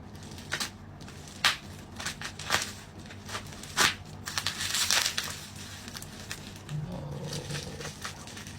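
A package being unboxed, with close crinkling and crushing of wrapping and scattered sharp rustles and handling bumps, irregular and moderately loud throughout.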